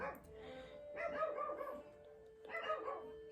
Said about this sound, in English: Mind the dogs barking?